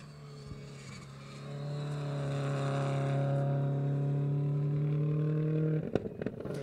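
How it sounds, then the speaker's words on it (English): A rally car on a Super Special stage of the 2012 Olympus Rally approaches and passes with a rising, steady engine drone that builds in loudness, then cuts sharply into crackling anti-lag pops and bangs. "So Adam Yeoman with his typically distinguishable anti-lag and the sound of his car cruising by."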